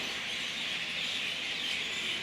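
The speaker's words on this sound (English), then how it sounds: "just the sound of all the birds, you know, roosting for the night just in the rafters was quite deafening" A large flock of birds roosting for the night in the rafters beside a river, making a dense, loud, unbroken wall of high chattering and chirping with no voices over it.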